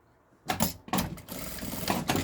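A sewing machine stitches together the two ends of a fabric coin purse strap, a close, steady motor whir with rhythmic needle chatter that starts after a short silence and briefly pauses once.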